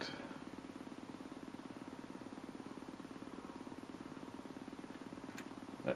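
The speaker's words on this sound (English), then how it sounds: "Let's get the revs up." Engine drone from the Stunt Car Racer game on the Commodore 64, a faint, steady buzzing hum with a rapid pulsing rhythm that holds nearly unchanged throughout, with no one speaking.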